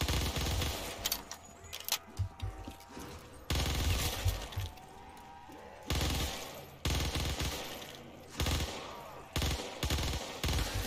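Machine gun fire in Black Ops 3 zombies mode rattles out in repeated loud bursts separated by short pauses, close and harsh.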